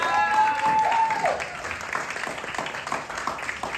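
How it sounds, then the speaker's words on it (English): Applause from an audience at a talent show, steady clapping throughout with a brief whistle-like tone near the start and some voices mixed in. "Clap for him."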